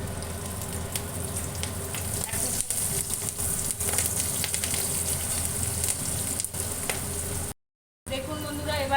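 Black cumin seeds and green chillies sputter in hot oil in a kadai, a steady close, loud sizzle with crackling pops running throughout, briefly cutting out near the end.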